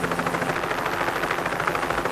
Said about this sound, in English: It was Harold the helicopter.